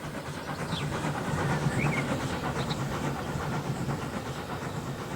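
A southbound steam train passes in the Transport Fever 2 railway game, a steady rumbling clatter of wheels on track that holds even and fairly loud throughout, with a few faint whistle-like squeals over it.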